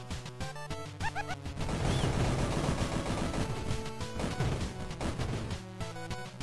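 Rapid gunfire from a fast-firing weapon in the video game Monolith, dense bursts of shots and crashes layered over loud game music and effects, sustained throughout.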